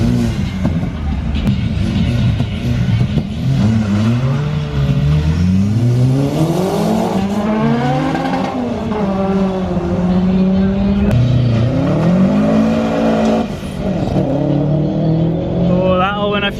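A Honda K20-engined Mazda RX7 racing around a wet Crail Raceway, its loud engine screaming up through the revs in repeated rising sweeps between gear changes, close and continuous throughout.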